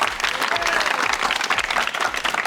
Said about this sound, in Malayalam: അതിന് നല്ലൊരു കൈയടി കൊടുക്കുക.